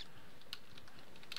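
Rapid, light typing on a computer keyboard: a brisk run of close key clicks over a quiet, even background, with no voice.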